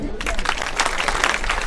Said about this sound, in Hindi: मैं इनकी मोहब्बत में आप लोग एक बार ताली बजा दें